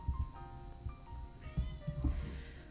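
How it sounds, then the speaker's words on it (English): Cat meowing outside a shut door, a couple of faint, muffled meows over low thumps and other indistinct indoor noise, heard from a short distance away. "I hear my sweet feline meowing outside for attention"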